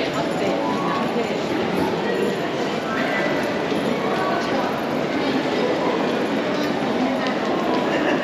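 Busy Tokyo train station ambience: a dense, steady wash of crowd murmur, footsteps and station bustle, with people talking throughout and faint rail sounds mixed in.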